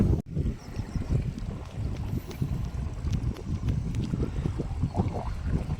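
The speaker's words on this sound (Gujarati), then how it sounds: "જો ત્યાં પાણી ચાલુ થઈ ગયું।" Irrigation water gushes out of an underground cement pipeline into a field basin, a close, continuous low rumbling rush with wind buffeting the microphone throughout.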